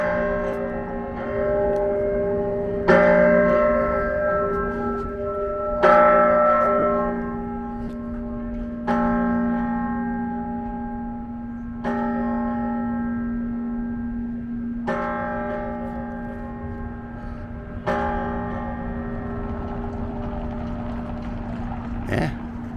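The Centennial Bell in Philadelphia, cast from four cannons including two from the Battle of Saratoga, tolls the hour with six or more slow, evenly spaced deep strikes, each ringing out and decaying into the next, loud and near.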